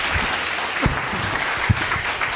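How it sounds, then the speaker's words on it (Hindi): Audience clapping loudly at a devotional talk, a continuous broad wash of applause with a few sharper swells, steady and fairly close, no speech over it. "अगर जितने तैयार हैं एक बार जोर से ताली बजा दीजिए।"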